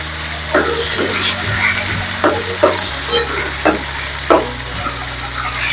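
Cut tomato pieces dropped into hot oil with green chillies in a pan, sizzling and frying steadily up close with repeated stirring scrapes, no talking.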